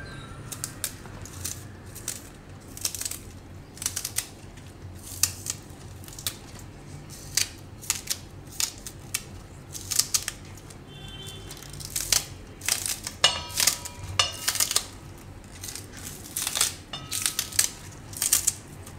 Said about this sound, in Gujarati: હવે એમાં આપણે આ ડુંગળી સુધારી લેવું.